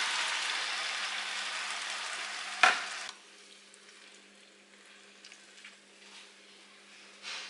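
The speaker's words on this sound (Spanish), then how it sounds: "ya que se hayan frito un poquito las, las calabazas, están un poco blanditas" Zucchini and chicken sauté in a pan. A loud, hissing sizzle fills the first three seconds, a sharp clatter cuts in, then the frying settles into a softer, quieter simmering crackle.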